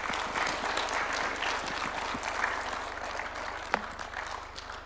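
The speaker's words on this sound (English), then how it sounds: "Another round of applause for His Excellency." Sustained audience applause at the launch of a retired major's memoir attended by Kenya's president, a dense steady wash of clapping from a large crowd with one sharp louder clap near the end.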